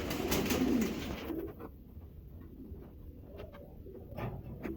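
A racing pigeon coos softly in a loft, a few low murmuring calls repeating close by over a quiet background after an initial burst of louder noise.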